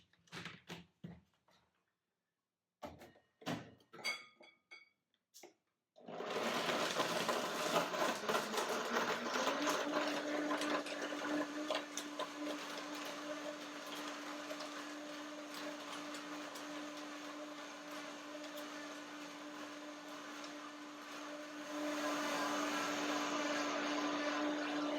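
A blender blending cashew milk starts after a few brief knocks and runs loudly and steadily, its whirring pitch settling into a sustained hum that swells again near the end.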